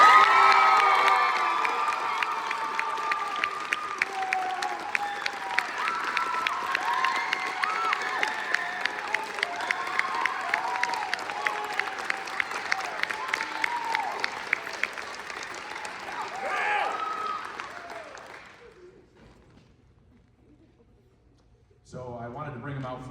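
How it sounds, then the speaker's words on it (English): Audience applause and cheering at a school variety show farewell for graduating seniors, a loud sustained roar of clapping, whoops and children shouting that fades to near silence before a new sound starts at the end. "Could we give them a wonderful round of applause?"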